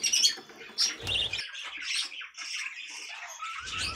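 Budgerigar fledglings chirping close by, a busy run of high, thin tweets and squeaky calls overlapping one another, with a brief low rustle near the start and again at the end.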